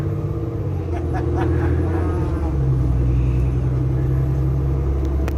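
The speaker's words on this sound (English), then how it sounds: "Just riding the bus to Mojave." Steady low engine rumble and road noise from inside a moving bus travelling to Mojave, California, loud and continuous, with a few faint rattles.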